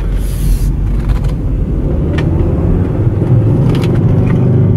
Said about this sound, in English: you feel that turbo spool up and hear it